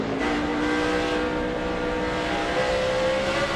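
NASCAR stock cars at Bristol in 2005 taking the green flag, a loud continuous roar of engines accelerating together with rising pitch, heavy and close throughout.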